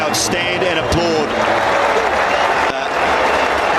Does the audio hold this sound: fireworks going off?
no